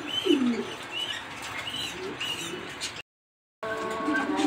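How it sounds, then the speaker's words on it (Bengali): Racer pigeons, including red checkers, coo softly and chirp up close while drinking water, with a brief flutter of wings; the murmuring runs on, drops out for a moment of silence, then resumes. "এই দেখেন পানি খাচ্ছে কবুতর"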